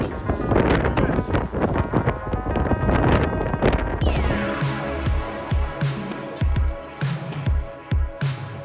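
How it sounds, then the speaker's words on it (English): Strong gusting wind whips through a mountain blizzard during snowboarding, a loud continuous roar buffeting the microphone, with bumps and scraping movement noises breaking through in the second half. "It's so windy."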